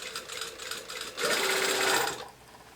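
A home sewing machine stitches a sleeve seam slowly, giving a soft rattle and then a louder, whirring run of about a second before stopping.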